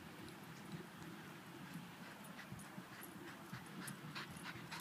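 A retired sheepdog pants quickly and steadily after chasing a frisbee, close and fairly quiet, a rapid breathy rhythm that continues throughout with no talking.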